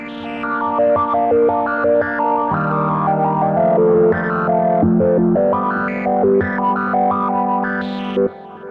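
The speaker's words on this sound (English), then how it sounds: "We are actually going to space echo territory" A GForce Bass Station synthesizer plays chords and melodic notes with a heavy tape-style space echo, repeats trailing behind each note and a slightly distorted, swirling tone.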